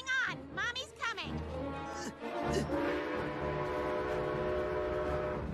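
A cartoon train blares its whistle in a series of rising and falling toots, then settles into a sustained droning horn over rumbling rail noise, with animated characters shouting over it.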